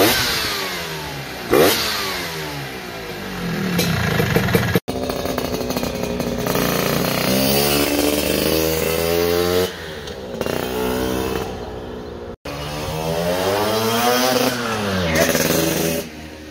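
A 1966 Vespa Sprint 150 scooter with a 193cc engine revs hard, rasping up and down in repeated sweeping bursts, loud and close, with brief cutoffs between the runs.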